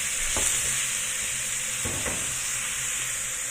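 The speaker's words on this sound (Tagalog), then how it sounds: "Try natin yan hanggang sa maging brown din." Ground pork fries in a pan, cooked Chinese style until brown, giving a steady close sizzle with a few scraping stirs of a utensil, and nobody speaks.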